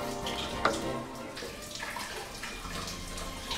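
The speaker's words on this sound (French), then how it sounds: "On rajoute de l'eau." Water pours into a simmering pot of ramen in a kitchen, a close, steady splashing gush with a brief sharp clink near the start, no voices.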